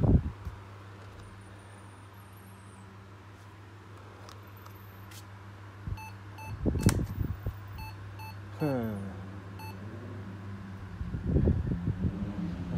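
Old laptop sounds a series of short, regular electronic startup beeps over a steady fan-like hum, interrupted by handling clatter and knocks nearby, with a brief murmur from a person.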